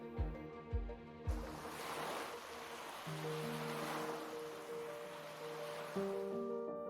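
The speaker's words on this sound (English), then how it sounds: "with waves crashing against the basalt and wind howling through the cliffs" Ocean waves crash against basalt cliffs while wind blows, a broad steady roar of surf that swells and holds, with a few low thuds at the start.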